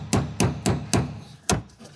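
Five sharp hammer blows ring out at an uneven pace during work on a Cadillac Northstar engine, close and loud with brief pauses between strikes and no speech.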